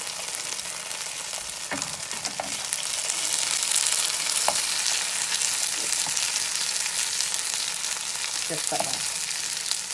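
Pierogi fry in a pan with a steady, close hiss of sizzling oil, broken by a few soft clicks and scrapes as they are turned, and a voice speaks briefly over it.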